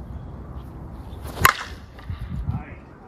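A Worth Legit Watermelon USSSA slowpitch softball bat strikes a ball once with a sharp, loud crack near the middle, followed by faint outdoor background noise and soft distant movement.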